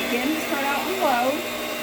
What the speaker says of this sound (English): Get this last cup of flour blended in.